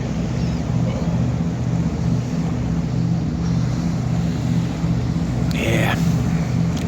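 A boat engine fires up and runs with a steady, close, low throbbing drone that continues evenly throughout, while a brief higher whine cuts in near the end.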